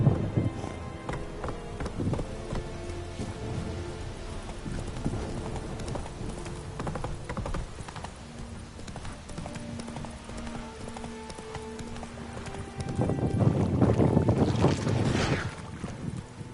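Hooves of the horse Roach clip-clop at a gallop in The Witcher 3, a steady rhythmic patter with a faint whoosh of wind and a louder burst near the end.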